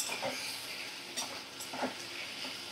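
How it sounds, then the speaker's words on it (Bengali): Sesame seeds sizzling in a pan as they are stirred, a continuous soft hiss broken by a few brief scraping strokes, fairly quiet and close. "তিলটা দিয়ে সামান্য একটু 2 মিনিটের জন্য একটু নাড়াচাড়া করে নেব"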